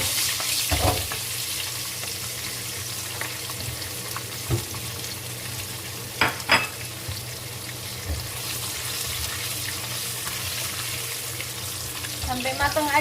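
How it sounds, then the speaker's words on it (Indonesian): Spice paste (bumbu) fries in a pan with a steady close sizzle for several seconds, broken by a few stirring scrapes and a brief splash near the end. "Sekarang saya mau numis bumbunya ya teman, mau digoreng dulu bumbunya"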